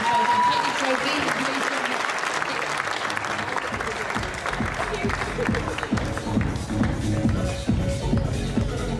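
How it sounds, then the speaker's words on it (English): An audience gives a sustained round of applause for the best overall film winners at an awards event, the clapping dense and steady while people move and shuffle nearby. "Give them another round of applause."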